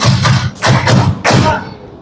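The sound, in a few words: audience clapping on command, count one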